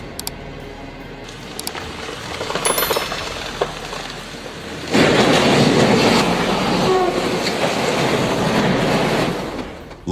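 A heavily loaded freight train rumbles along the rails with steady clattering, growing much louder and closer midway and staying loud until the end.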